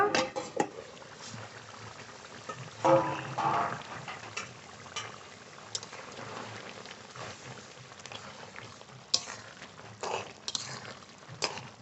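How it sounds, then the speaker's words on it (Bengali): Crab curry simmers slowly in a covered pan over low heat, giving a faint, steady bubbling with occasional soft clinks of the pan, close but quiet. "একটু ঢেকে আস্তে আস্তে জাল দেব।"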